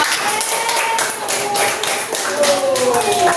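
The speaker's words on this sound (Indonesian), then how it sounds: "Nah, ini Madi, tepuk tangan untuk kelompok" A primary classroom of sixth-grade pupils claps for a group, a brisk patter of hand claps heard alongside children's voices and chatter close by.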